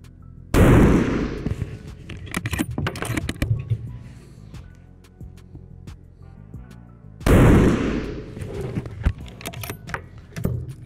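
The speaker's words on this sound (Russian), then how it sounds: "Три выстрела в верхнюю левую" Two loud, sharp shots from a scoped carbine during scope zeroing, several seconds apart, each with a long echoing tail, with faint clicks and rattling in between.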